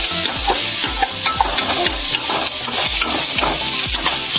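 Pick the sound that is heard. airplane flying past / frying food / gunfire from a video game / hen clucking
frying food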